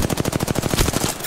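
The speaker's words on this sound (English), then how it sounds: "Opening fire on the enemy." Rapid automatic gunfire in the Overwatch video game, a steady burst of evenly spaced shots at about ten per second, close and loud with no talking.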